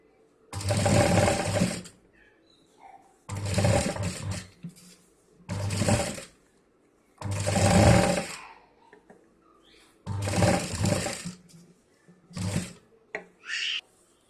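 A sewing machine stitches fabric for a large travel bag in six loud, close bursts of rapid mechanical whirring, each lasting one to two seconds, separated by short quiet pauses.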